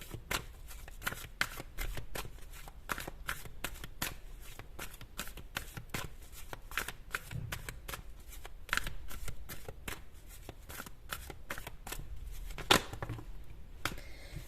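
Tarot cards shuffled steadily and up close, a long run of quick crisp riffling snaps with no talking.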